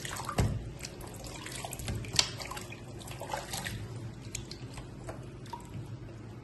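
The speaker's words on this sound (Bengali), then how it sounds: "এবার পানি থেকে মুরগিগুলো তুলে নিচ্ছি" Gentle water sloshing and dripping continues steadily as chicken pieces are lifted out of washing water, with a soft thump near the start and a small clink midway.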